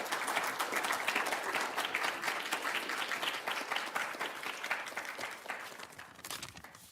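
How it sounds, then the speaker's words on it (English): Audience applause for a debater at a Dawson Society debate, a dense burst of many hands clapping that holds steady, then thins and fades toward the end, heard at a moderate distance without speech. "Please give him a round of applause."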